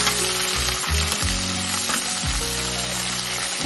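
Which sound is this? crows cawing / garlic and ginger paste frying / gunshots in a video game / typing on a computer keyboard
garlic and ginger paste frying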